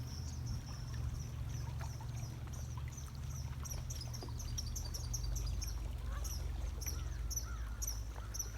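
A gaggle of geese on the Connecticut River honks in short, repeated calls, a bit distant, over a low, continuous rumble of wind and water near a canoe.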